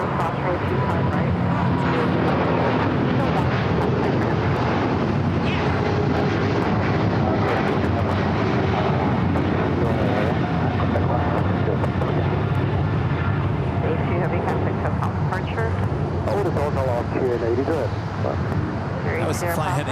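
A Boeing 777-200ER jet airliner departs Los Angeles LAX for Vienna, a continuous heavy engine roar lasting the whole stretch beneath steady talking voices.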